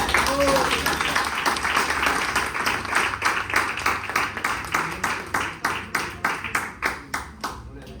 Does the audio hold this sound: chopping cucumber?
no